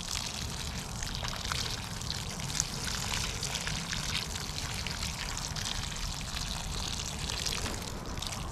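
Water pours steadily onto newly planted bean seeds in garden soil, a continuous close splashing trickle with no pauses for several seconds.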